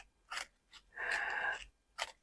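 Japanese momigami paper is crumpled by hand in a series of crisp, rustling crackles, short bursts alternating with one longer scrunch, close and clear with no talk.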